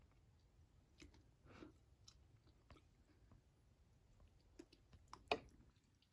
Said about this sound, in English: I'm going to take a bite.